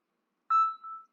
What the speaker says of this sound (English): as you can hear, I just got a text message to my phone.